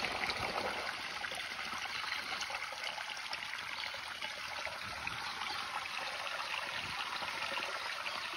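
Stream water flows near a riverbank with a steady splashing trickle, close and continuous, with brief louder gushes, where water falls near a tree, and no talk.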